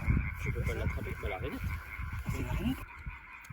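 A common tree frog (Hyla arborea) calling at a pond in France, with repeated low croaking pulses under a voice talking nearby, plus steady background insect or frog chorus.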